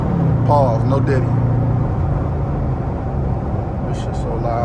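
A modified 2014 Dodge Charger R/T Plus drives along with its engine rumbling loudly, someone talking over the steady exhaust drone.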